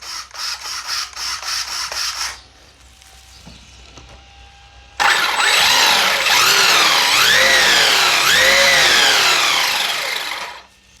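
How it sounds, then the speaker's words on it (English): An Arrma Big Rock 223S RC car's electric motor whines in short pulsed revs, then, after a pause, rises into a loud, sustained high-pitched whir that sweeps up and down as the wheels spin. "And that wheel speed does seem a lot faster than it did before."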